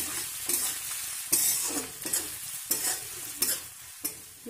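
Onions fried in a pan for restaurant-style paneer masala, with steady scraping stir strokes at a regular rhythm over a constant sizzle, close and moderately loud, with no voices.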